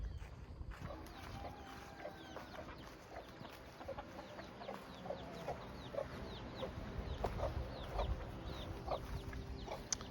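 Chickens clucking and peeping on a backyard farm during chores, a scatter of short, fairly soft calls repeating irregularly over low background rumble.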